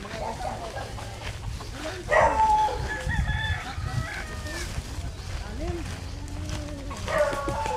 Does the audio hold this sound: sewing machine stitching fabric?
no